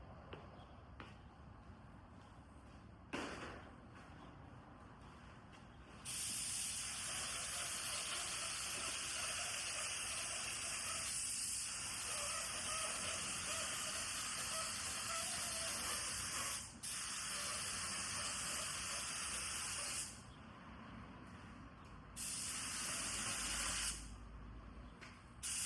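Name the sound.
old paint spray gun spraying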